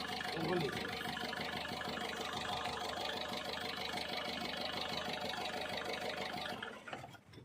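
A Ford Figo engine with an injector fault idles with a steady, close mechanical rumble, then cuts out abruptly near the end.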